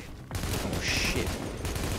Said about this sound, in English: This kid's really laying down fire on me